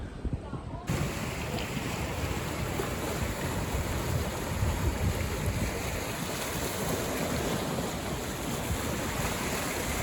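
Wind buffets the microphone over a steady wash of lapping water and gentle surf at the harbour water's edge in Kato Paphos, Cyprus.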